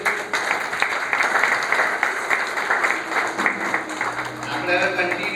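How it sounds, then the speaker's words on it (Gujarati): An audience at a cooperative societies conference applauds during a felicitation ceremony, dense clapping running throughout with an announcer's voice talking over it in the latter part. "આપણે હવે કન્ટિન્યુ તાળી પાડવાની છે"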